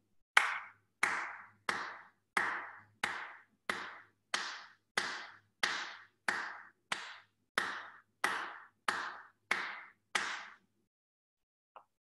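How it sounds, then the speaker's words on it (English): A single person claps alone in a slow, even rhythm of about fifteen crisp claps, spaced roughly 0.6 seconds apart, clean and close against silence. "So I'm going to clap"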